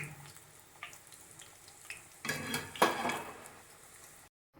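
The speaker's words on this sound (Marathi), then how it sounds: "तेल तापलेलं आहे बऱ्याचपैकी. पुरी ही चांगली आपली तळून घेऊया त्याच्यात." A puri fries in hot oil over a medium flame, giving a quiet, uneven sizzle that swells louder for a moment before cutting off.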